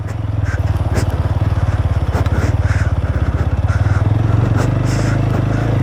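A motorcycle engine thrums loud and steady on a slow ride along a rough, bumpy road between Deusa and Mukli, with a clattering pulse throughout and faint voices underneath.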